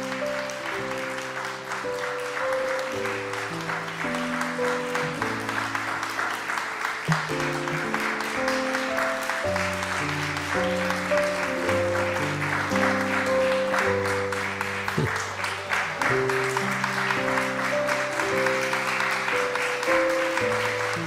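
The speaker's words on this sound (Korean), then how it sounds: "우리 큰 박수 해 주시길 바랍니다" A church congregation applauds steadily during a Sunday worship service, a dense continuous patter of clapping under organ or keyboard music playing a held chordal melody.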